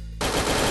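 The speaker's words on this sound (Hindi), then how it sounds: "इसलिए नीचे से मैं फायर करने लग गया दोस्त।" Gunfire rings out in a battle royale video game during a solo-versus-squad match, a sudden loud burst of rapid automatic shots starting abruptly and continuing to the end.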